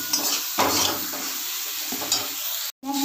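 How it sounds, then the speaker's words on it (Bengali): Spices, turmeric and salt being stirred and fried in a pan for a vegetable dal, a steady close sizzle with scraping stir strokes and a brief silent gap near the end. "পরিমাণ মতন বা স্বাদ মতন লবণ দিয়ে ভালো করে আবার কষতে থাকবো।"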